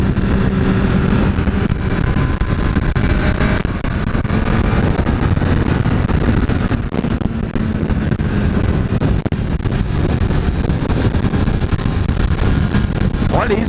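A 2014 Honda CBR 1000 RR Fireblade motorcycle roars steadily under hard acceleration, loud and continuous, heavily buffeted by wind noise from riding.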